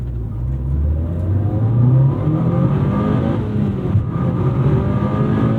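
A turbocharged JDM rally car, a Lancer Evolution IX GSR or GR Corolla Core, pulls hard under acceleration, its engine note climbing steadily and loudly from close by with no talk over it.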